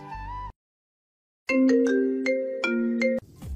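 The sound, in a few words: phone ringing after a call is placed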